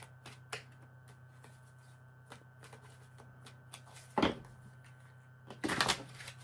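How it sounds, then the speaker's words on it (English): Quiet, scattered flicks and riffles of tarot cards, then two louder bursts of shuffling near the end, with no one speaking. "Sorry about all that shuffling."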